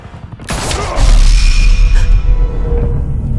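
Gunfire in Batman: The Telltale Series: a sudden loud blast followed by a heavy, rumbling volley with clattering and ringing debris, sustained and close.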